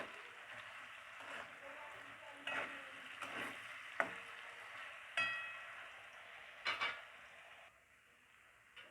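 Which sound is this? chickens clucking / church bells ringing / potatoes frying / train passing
potatoes frying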